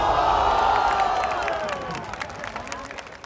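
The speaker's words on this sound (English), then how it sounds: "they're cheering for AAC right there" An esports arena crowd at a VALORANT Masters Tokyo match cheers and applauds loudly, with the roar gradually subsiding over a few seconds.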